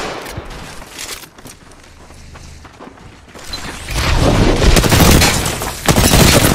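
Gunfire in the battle royale game Apex Legends: a quiet stretch with faint distant shots gives way to a loud, dense burst of rapid automatic fire filling the last few seconds.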